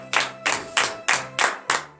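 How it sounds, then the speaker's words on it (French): A church congregation claps in unison during a morning prayer service in Comè, Benin: six firm, evenly spaced claps, close and loud, with no voices. "Donnez de vive acclamation éternelle."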